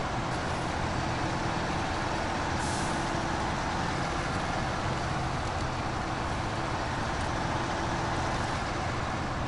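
A heavy truck grinds off-road in SnowRunner, its engine droning loud and steady for the whole stretch with a constant rumbling roar and a brief hiss near the start, no talking over it.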